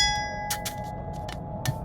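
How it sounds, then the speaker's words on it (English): A bell rings in a cartoon-style scene at a gate: a few bright metallic dings in quick succession over a steady low hum and held tones, without speech. "Bell! The bell opens the gate."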